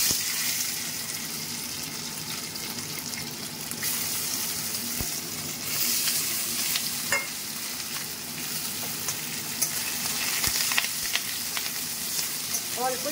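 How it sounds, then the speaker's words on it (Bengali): Paneer frying in a pan gives a steady, close sizzle with occasional stirring scrapes and a brief run of water, with no speech. "আগে পনিরটা ভেজে নিচ্ছি।"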